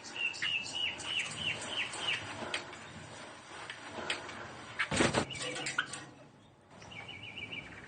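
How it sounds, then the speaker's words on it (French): A nightingale and a Thai sparrow sing near a woman's home among her plants and caged birds, with repeated bright chirps and trills and a brief louder rustle midway, no voices. "écouter le rossignol et le moineau thaïlandais faire leur gamme"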